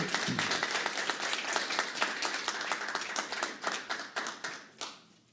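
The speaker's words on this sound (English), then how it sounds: "Put your hands together for these amazing musicians and what they do." A church audience applauds musicians after a song, dense clapping that holds steady and then thins out into scattered individual claps before fading.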